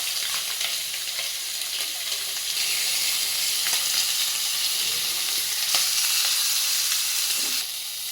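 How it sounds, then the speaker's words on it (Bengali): Fish pieces frying in oil in a pan: a loud, close, continuous sizzle with a crackling hiss that holds steady throughout, with no talking. "মাছগুলো আমার লাল লাল করে ভেজে নেব আমি।"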